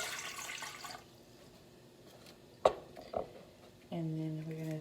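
A cup of warm water is poured for pizza dough in a home kitchen: a short splashing pour early on, a couple of light knocks, then a steady running-water tone near the end, all fairly quiet and close.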